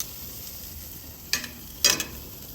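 Lemon pepper porterhouse pork chops sizzle on a Monument Mesa II 415BZ gas grill, a faint, steady hiss broken by two brief clattering bursts near the end.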